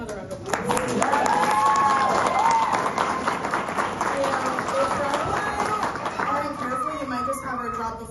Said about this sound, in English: Miss Cara, can we have another round of applause?